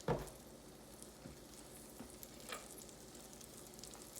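Mushrooms fry in oil in a pan with a soft, steady sizzle, a brief clatter opening the sound and faint stirring ticks scattered through it.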